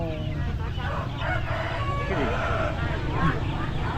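Chickens cluck and a rooster crows amid a busy outdoor background with people talking nearby, at a lively Vietnamese morning market.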